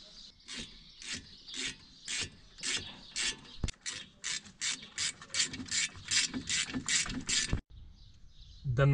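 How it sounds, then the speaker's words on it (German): Torque wrench ratcheting as hex guide bolts are tightened to 36 Nm, a quick run of close, crisp clicks in steady bursts, then a brief pause and a softer trailing sound. "Dann nehmen wir wieder unsere Führungsschrauben mit den 6 Kant und ziehen das mit dem Drehmoment 36 Newtonmeter an."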